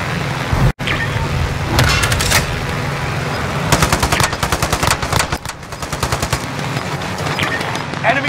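Gunfire in a Godzilla vs Kong video game, dense rapid machine-gun bursts with a dull thud early on, loud and close, in near-continuous rattling volleys.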